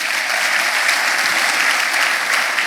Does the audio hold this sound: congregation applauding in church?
yes